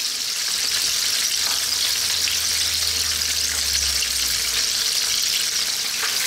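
Chicken pieces frying in hot oil give a loud, steady sizzle and crackle that never lets up, close by with no voices over it.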